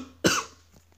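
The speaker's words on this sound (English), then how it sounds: "having a little cough attack right here" A single sharp cough bursts out close to the microphone, followed by a fading breathy tail and a faint second catch of the throat near the end.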